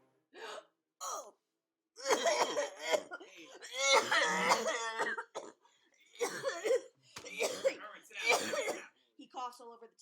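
A person acts out a series of harsh, wet coughs and throaty gasps, imitating a sick character's fit at a tabletop role-playing session, broken up by short pauses.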